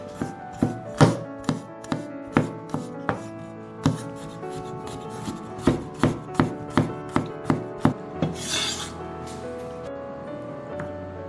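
A knife chops crushed garlic cloves on a cutting board, sharp, close knocks in a quick, uneven rhythm of roughly twenty strikes, with a brief scraping sweep near the end.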